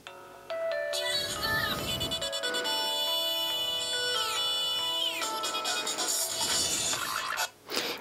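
A ringtone playing on a Nokia Lumia 920 running Windows Phone 8: a bright, layered electronic melody with plucky synth notes and a driving beat, loud and continuous for the whole stretch with no talking.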